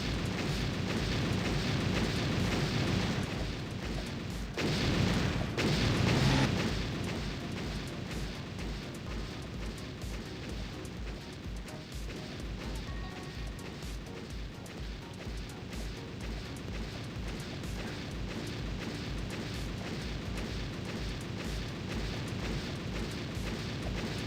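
Missile launcher explosions in a Roblox game, a heavy boom swelling early then a long rumbling, crackling wash of blasts and battle noise that stays loud and steady throughout, with no talking.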